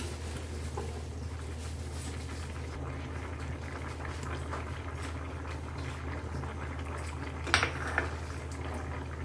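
White pea curry (ghugni) bubbling in a pot, a soft continuous simmer heard close and quiet, with a few small metallic clinks near the end.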